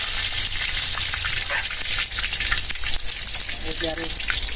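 Bay leaves, cardamom, cloves, cinnamon and dried chillies frying in oil for a duck curry, giving a loud, continuous hissing sizzle close up, with a few faint clinks and stirs.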